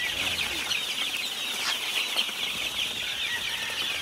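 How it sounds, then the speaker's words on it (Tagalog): Dense chorus of high, shrill peeping from a crowd of two-week-old chicks, continuous and close, with a few faint clucks mixed in and no talking. "i-close up ko yung mga sisiyo"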